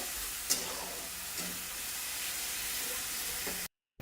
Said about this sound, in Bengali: দেবো তিন থেকে চার চামচ টমেটো পিউরি এটাও ভালো করে কষিয়ে নেব